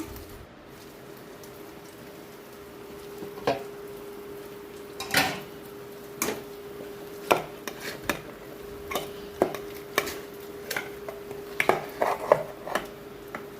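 Chicken pieces going into a pan of hot oil for a Telugu chicken curry, with scattered clinks and sharp scraping clatters of a utensil against the pot over a steady low hiss.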